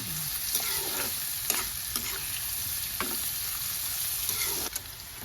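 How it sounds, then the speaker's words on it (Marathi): Onion frying in a pan until reddish, a dense continuous sizzle with periodic scraping stirs, close and steady, with no voices. "आता कांदो कांदो किती वेळ भाजायचो लालसर होईपर्यंत"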